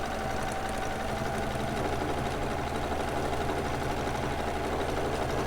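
A sewing machine runs at a constant, even speed while stitching a free motion quilting motif in looped rows, a dense mechanical whir that goes on without a break, with no talking.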